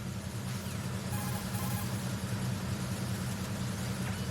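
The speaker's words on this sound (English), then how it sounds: "The engine noise is pretty loud" A tanker's engine room in Metal Gear Solid 2 fills the space with a steady, loud low-pitched mechanical drone and hum, constant and unbroken with no voices.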